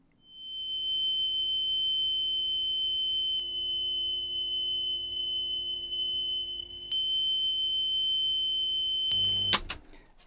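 A JVC RC-636LB boombox plays a cassette after a pinch roller replacement with new rubber on the old axle: a steady, sustained high tone with a low hum beneath, ending in a few abrupt clicks.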